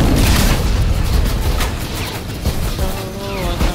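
Gunfire from above in a Fortnite Battle Royale air royale match, a dense, loud barrage of booming shots and blasts that runs continuously, with a brief game tone near the end.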